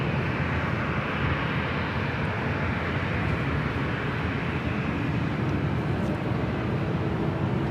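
A heavy Delta airliner departs LAX on runway 24 left with a steady, broad jet roar that holds at a constant level for several seconds and no voices over it.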